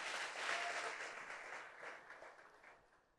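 A church congregation gives a round of applause, a dense wash of clapping that builds quickly and then fades away over a few seconds.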